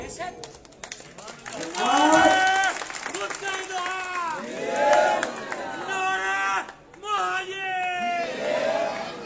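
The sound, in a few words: crowd chanting political slogans at rally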